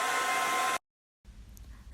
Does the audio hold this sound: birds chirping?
no